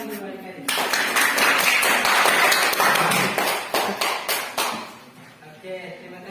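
Students in a classroom break into applause, a burst of many hands clapping loudly that swells quickly, holds, then thins out into a few scattered claps before fading.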